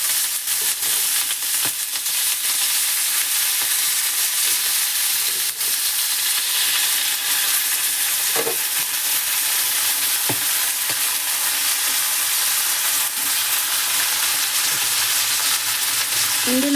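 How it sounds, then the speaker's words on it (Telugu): Green chillies and garlic cloves fry in oil in a pan, giving a steady, even sizzle with faint stirring clicks throughout. It stays close and continuous with no talking. "ఇప్పుడు ఈ వెల్లుల్లి రెమ్మలన్నీ వేసేసుకుందాం ఇందులోకి. ఈ వెల్లుల్లి రెమ్మలు వేసాక కొంచెం ఆయిల్ వేద్దాం."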